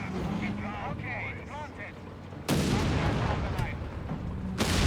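Battle gunfire in Company of Heroes 3 with sharp, loud blasts cracking out among background combat noise, while a commentator talks over it.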